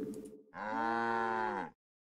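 A cow in StarCraft II gives a single long, full moo that holds steady for over a second before stopping abruptly, after a brief burst of game sound, with nothing else under it.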